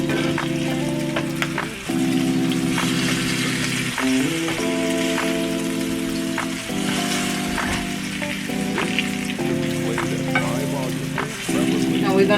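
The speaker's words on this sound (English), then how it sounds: "So I'm going to go ahead and let these pork chops continue to fry up" Pork chops fry in a pan with a loud, steady sizzle and crackle that fills the whole stretch, broken by brief stirring or scraping, and no one talks.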